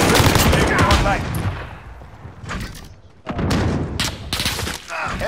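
Rapid bursts of automatic gunfire crackle in Call of Duty Modern Warfare, loud and close, in dense clusters broken by a brief lull before firing resumes.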